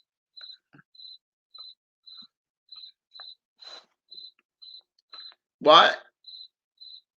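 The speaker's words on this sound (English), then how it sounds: "You're my pet cricket, but you're being too loud this stream." A pet cricket chirps loudly and steadily, a dozen evenly spaced high chirps over several seconds, interrupted once by a brief spoken word from a nearby person.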